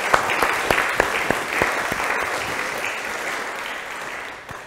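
Audience applause fills a hall after a talk on digital technology, a steady wash of many hands with a few sharp individual claps standing out early, gradually easing off toward the end.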